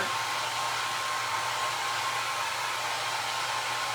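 A dryer blowing over a wet paint finish gives a loud, steady airy roar with a constant motor hum, close and unbroken throughout.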